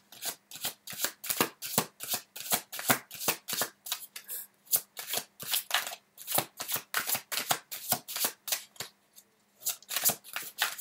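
Tarot cards are shuffled by hand in a quick, rhythmic run of crisp riffling bursts with a few brief pauses, close and clear, and nobody speaks.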